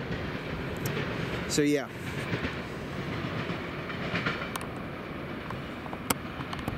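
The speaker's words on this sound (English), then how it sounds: "Two southbound freights in about the last hour." Southbound CSX freight train passing, a continuous rumble of rolling cars with clicking wheels, a brief horn-like tone sweeping near the start, while a voice speaks briefly.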